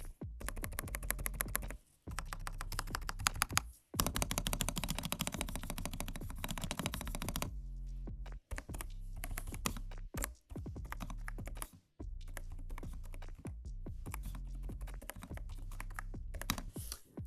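Rapid, steady clicking of keys on an EPOMAKER RT100 mechanical keyboard, close up, in long runs separated by brief pauses, with no voices.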